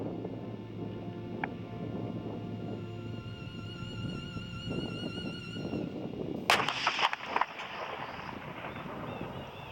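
A cannon is fired outdoors for a ship-battle film's sound effects, a sudden heavy blast partway through after a stretch of wind-blown background noise, followed by a short rumbling decay.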